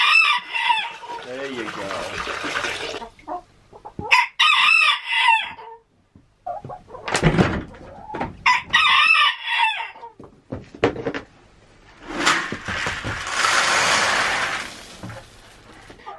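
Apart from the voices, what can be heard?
rooster crowing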